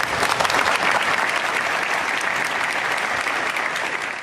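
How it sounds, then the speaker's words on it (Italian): Long, dense applause from a large audience in a theatre, loud and sustained without a break. "Sergio Mattarella, accolto con un lungo applauso al suo ingresso in teatro."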